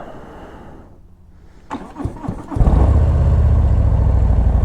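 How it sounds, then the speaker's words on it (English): A 2022 Harley-Davidson Low Rider S with new Screamin' Eagle slip-on exhausts cranks a few times, catches, and settles into a deep, steady rumbling idle, loud and close. "cold start, new exhaust."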